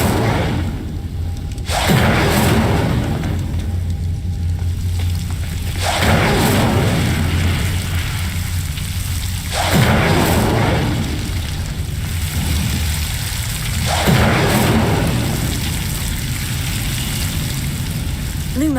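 Incendio fire spell cast repeatedly in Hogwarts Legacy, each cast a loud booming whoosh of flame bursting out, several in a steady rhythm a few seconds apart over a rumbling background.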